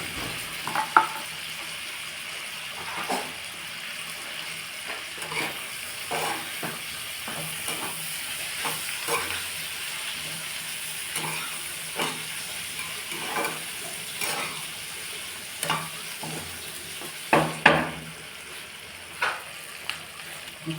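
Sliced onions sauté in a pan for chicken patiala, a steady soft sizzle broken by frequent scraping and clicking stirs from a spatula.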